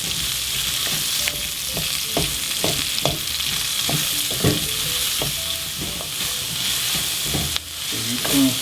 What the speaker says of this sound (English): That's our onions going in, along with our spring onions. Just going to brown that up a bit as well.